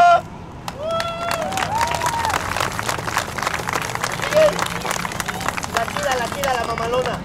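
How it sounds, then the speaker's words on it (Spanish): Applause and cheering from an audience at an outdoor clown show in Xochimilco, rising around and under loud emcee shouting and music, with bursts of clapping throughout. "¡El aplauso!"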